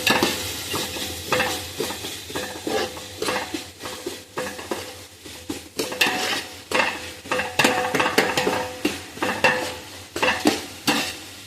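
Onions frying golden with pandan leaf in a pan for mixed biryani, with constant loud sizzling and rhythmic scraping stirs of a utensil against the pan. The sound is close up with no voices.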